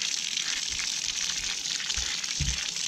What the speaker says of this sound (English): Just take the water hose, rinse some of that mill scale off her just a little bit.